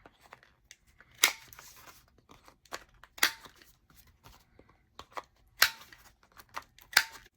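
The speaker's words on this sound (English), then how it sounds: "I will go ahead and round the corners with my corner chomper" A corner chomper punch rounding the corners of paper file cards: sharp crisp clicks and snips, close and distinct, spaced irregularly over several seconds with soft paper rustling between.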